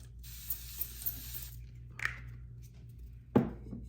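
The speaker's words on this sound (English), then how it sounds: "I'm going to spray my cream products down with this facial spray" Facial spray misted onto cream makeup products: a soft hissing spray lasting over a second, followed by a few light clicks and a sharp tap near the end, all faint and close with no talking.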